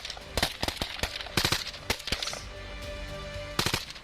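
Rifle and light machine gun fire from Rashtriya Rifles soldiers on a fire-and-move drill at Handwara in North Kashmir, sharp cracking shots in quick irregular bursts over a continuous background rumble, fairly close.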